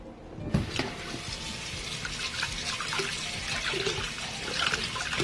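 Tap water runs steadily over a Mr. Clean Magic Eraser sponge being rinsed at a sink, a broad continuous splashing trickle with a brief louder splash near the start.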